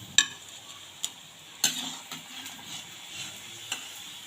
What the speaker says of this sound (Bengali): এবার বাকিগুলো ভেজে নিচ্ছি।